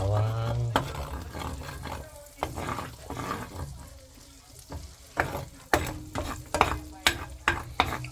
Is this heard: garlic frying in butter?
yes